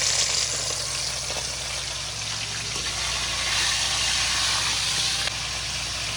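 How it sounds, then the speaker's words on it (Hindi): Chicken pieces fry in hot oil for a chicken pulao, giving a steady, loud, dense sizzle and hiss that holds throughout without talk. "अब इसको फ्राई होने तक मैं ऑयल में रखूँगी।"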